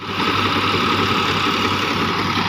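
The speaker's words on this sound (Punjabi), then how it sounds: "ਬਾਕੀ ਤੁਸੀਂ ਚੱਲਦਾ ਟਰੈਕਟਰ ਨੂੰ ਦੇਖ ਹੀ ਸਕਦੇ ਹੋ" A John Deere 5405 CRDi tractor engine, pulling a KSA straw reaper, runs steadily close by, a constant low throbbing drone with no other sounds.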